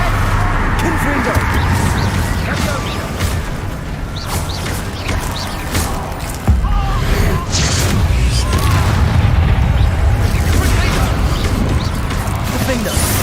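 Confringo fire spell explosions in the Hogwarts Legacy video game, with loud booming blasts and crashes over a dense, continuous game soundscape, and a sharp louder burst around the middle.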